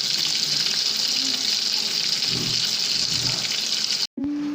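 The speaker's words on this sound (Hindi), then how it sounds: "तो मैं यहाँ पे भी मछली को फ्राई कर रही हूँ।" A steady, bright sizzle from fish frying in a pan stays close and constant, then cuts off abruptly near the end before a brief low hum returns.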